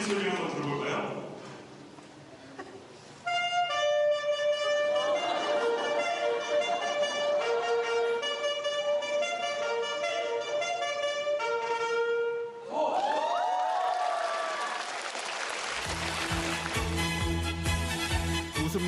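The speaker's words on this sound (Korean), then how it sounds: "우리 한번 엘프 색소폰의 소리를 한번 들어볼까요?" Students perform on saxophone at a school concert, the sustained reedy tones carrying a melody loudly and continuously over stage-hall ambience, with a brief pause before the playing resumes.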